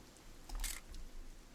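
A camera shutter clicks once, short and crisp, inside the video game What Remains of Edith Finch, set against quiet ambient background with no talk.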